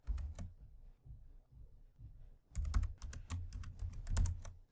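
Fingers tap on a computer keyboard while Gulp build code is entered: a soft, quiet burst of keystrokes, a short pause with a few light taps, then a quicker, denser run of clicks.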